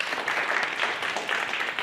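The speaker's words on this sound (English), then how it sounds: "Give him a round of applause." Indoor audience applauds a person standing up in their seat, a dense steady patter of many hands clapping for under two seconds with no voices over it.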